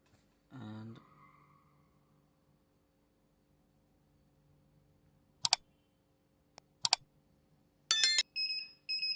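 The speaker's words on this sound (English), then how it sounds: "such type of alarm is buzzing, that's why its reflected power is so high" High reflected power alarm on a Niorfnio 15B FM transmitter: a low buzz at the start, then sharp isolated clicks and a final burst of shrill electronic beeping, loud against near silence.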